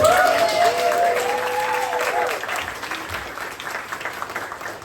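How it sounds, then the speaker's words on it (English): Audience applause at a science comedy show at the Sydney Fringe, a dense, steady wash of clapping from a crowd that holds for about five seconds, with a few raised voices faintly over it early on. "So let's give Murray a round of applause."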